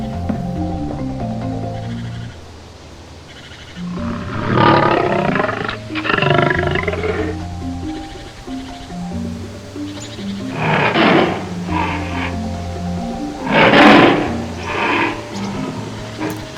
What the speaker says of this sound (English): I am a tiger.